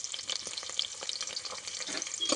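Garlic and cumin seeds frying in hot oil give a steady close sizzle with crackling pops and brief stirring scrapes, with no talking.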